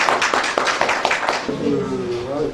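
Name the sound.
audience applause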